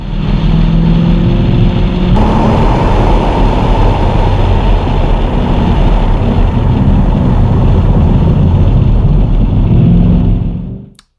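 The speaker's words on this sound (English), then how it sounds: "let's take a look at those first few laps around M1 Concourse with Andy Pilgrim driving" A race car laps the M1 Concourse circuit, its engine a loud, continuous roar that rises and falls slightly through the turns and holds close for the whole stretch before cutting off at the end. No one speaks.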